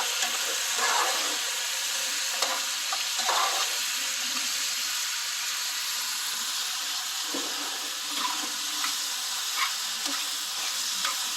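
Ox kidneys frying and caramelizing in a pan, a constant bright sizzle with occasional stirring scrapes and spatters, close up and steady with no voices.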